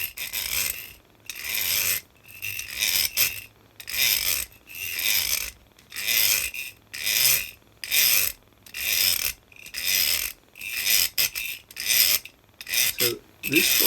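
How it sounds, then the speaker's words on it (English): Threaded steel studding slid back and forth across another piece, producing repeated rasping scrapes in a steady rhythm of about a dozen strokes, close and fairly loud with no talking. "So I've taken another piece of studding, sliding it across will make a vibration."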